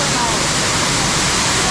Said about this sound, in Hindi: वो देखो वहाँ पे मार कर रहा पानी